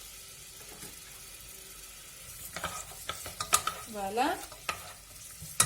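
Finely chopped onion cooks in oil in a pot with a soft, low sizzle, then louder stirring scrapes and clatter take over near the end. One brief spoken word comes partway through.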